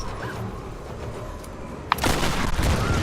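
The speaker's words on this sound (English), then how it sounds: "Stop blowing things up right in my face!" Muffled booms and blasts go off in a quick cluster in the video game Tomb Raider, over a low rumbling background, with a sharp crack near the middle.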